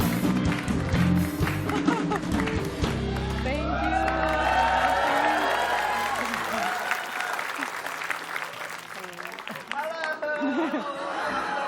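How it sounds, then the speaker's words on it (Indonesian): A TV talk show studio audience breaks into loud, lively applause and some cheering to welcome the actress Chelsea Islan. The clapping is sustained for the whole stretch, with music and voices mixed in. "Beri tepuk tangan yang meriah untuk Chelsea Islan."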